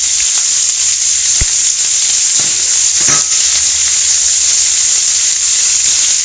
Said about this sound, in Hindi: तो तेल हमारा यहाँ गर्म हो चुका है, अब मैं इसमें डाल दूंगी शिमला मिर्च। इसी के साथ मैं इसमें डाल दूंगी प्याज।